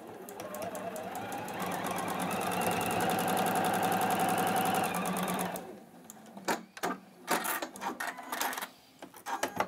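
Juki sewing machine stitching a quarter-inch quilt seam, a fast steady mechanical chatter close by for about five seconds, then stopping, followed by scattered clicks and fabric handling.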